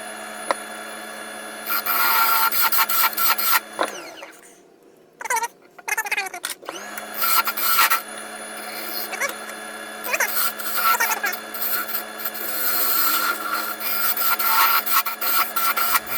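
A wooden tenon being cut on a box lid, most likely turned on a lathe: a loud continuous motor hum with scraping and cutting of wood over it, briefly stopping and then starting again.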